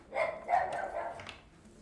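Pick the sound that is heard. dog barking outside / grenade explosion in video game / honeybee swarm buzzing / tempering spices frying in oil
dog barking outside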